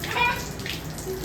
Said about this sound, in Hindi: अब इसको ऐसे करते हुए और जल चढ़ाना है।